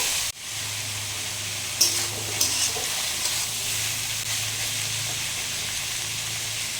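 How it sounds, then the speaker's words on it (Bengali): Onion and carrot stir-frying in a hot pan, with a continuous close sizzle and a few light utensil clinks and scrapes as the vegetables are tossed. "আমি সমস্ত সবজি কিন্তু এখানে স্টার ফ্রাই করে নেব।"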